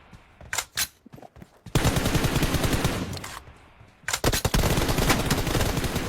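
Loud automatic gunfire in PUBG: a few short separate shots, then long sustained bursts of rapid fire with a brief pause before another heavy volley, close and dominant with no voices.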